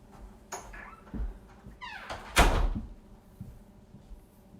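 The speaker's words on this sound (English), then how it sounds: "you shut that door" An indoor door swinging and shutting in a home, with a creaking squeal followed by a single solid thud, close by, amid faint household noise and a few soft knocks.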